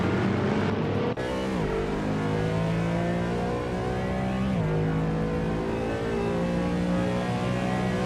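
Race car engines roar in a racing video game, a loud continuous high-pitched whine with rising and falling revs as cars shift gears and pass close by, alone without talk.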